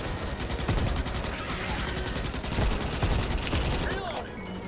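An automated gun turret fires in Starship Troopers: Extermination, with dense rapid gunfire rattling continuously throughout amid battle noise and a voice talking over it.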